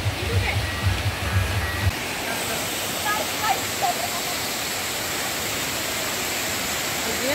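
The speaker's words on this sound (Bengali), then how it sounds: "জলটা নিচে বয়ে যাচ্ছে।" A waterfall in Mussoorie roars as a steady, broad rushing of water, with a voice talking over it only at the start before the constant flow carries on alone.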